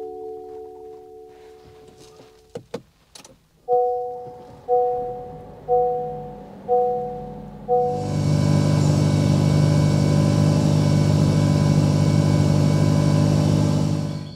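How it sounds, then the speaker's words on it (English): A 2024 Honda CR-V Sport Hybrid starting up, first a few warning chimes, then its engine and exhaust settling into a steady, loud idle that drones on close by. "move around this hybrid so you can hear that exhaust."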